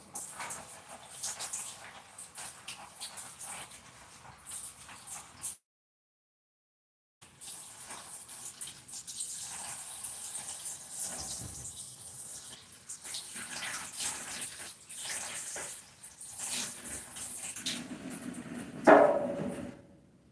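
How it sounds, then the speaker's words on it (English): Water runs steadily from a tap while green peppers are washed in a bowl, a continuous splashing rush broken by a brief pause, with a louder gush near the end. "So now, wash our pepper."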